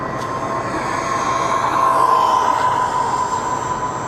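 A MJX Hyper Go 14208 brushless RC truck making a fast speed pass, a steady high motor whine that swells a little in the middle and then holds, loud and close, with no talking.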